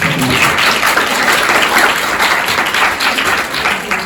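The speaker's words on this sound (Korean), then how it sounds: "다시 한번 박수 부탁드립니다" Audience applause at the closing ceremony of the 5th Debate Festival, a steady dense wash of many hands clapping at close range for the full few seconds, with no talk over it.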